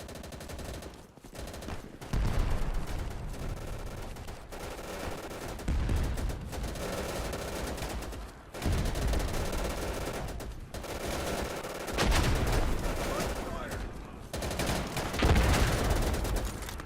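Gunfire in the video game Easy Red 2: dense machine-gun bursts and rifle shots fire almost continuously in loud clusters, with brief pauses between volleys.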